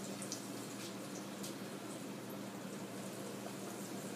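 Pork shoulder pieces sizzle and crackle in hot oil, a steady dense frying hiss with no talking, close and continuous throughout.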